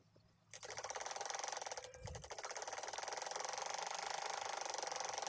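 A sewing machine runs steadily while stitching a heavy Patiala salwar. After a short quiet start its loud, even motor whir and fast rhythmic needle chatter go on continuously, with a brief hitch partway through.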